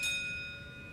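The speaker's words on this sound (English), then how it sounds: "When you hear the bell," A single bright bell chime in a Valvoline Instant Oil Change commercial rings out clearly, then its ringing tone slowly fades over a soft, steady background.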